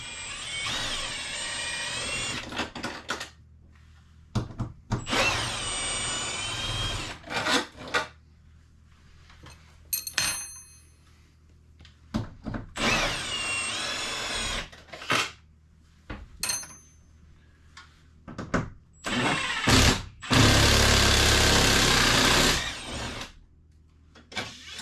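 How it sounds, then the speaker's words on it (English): Cordless power drill with a 3/8 socket backing four lag bolts out of an RV air conditioner frame, several separate loud whirring bursts with pauses and small clanks between them, and a final longer run. "I'm going to pull these 4 lag bolts out right here, and then this piece will come down"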